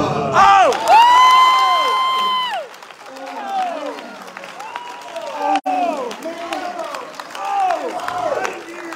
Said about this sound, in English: He gets so much applause.